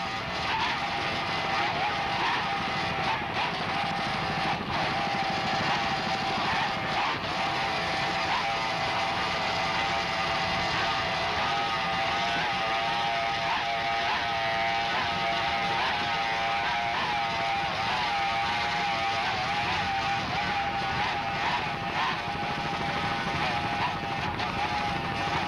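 Offshore racing powerboats roar at full throttle during the 1995 Miami Beach Grand Prix, among them a 28-foot Manta, a dense continuous engine howl with a steady loud level throughout.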